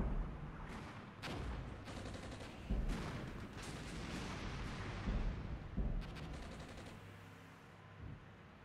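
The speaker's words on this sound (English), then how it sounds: "Incoming in enemy artillery." Enemy artillery in Armored Brigade, with heavy impacts and booming shots landing at irregular intervals among scattered gunfire, fairly faint and distant-sounding.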